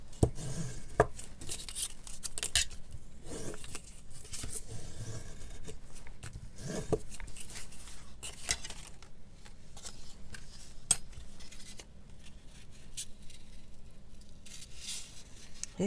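A butter knife scores skinny cardboard with a steady run of soft scraping and ticking strokes, close and quiet, repeating in an irregular rhythm over a low background hum.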